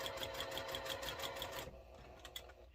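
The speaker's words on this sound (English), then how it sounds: "I am using a scant 1/4 of an inch" Sewing machine stitching a quilt block seam with a quick, faint run of rhythmic ticking that stops after a moment, followed by a few soft clicks.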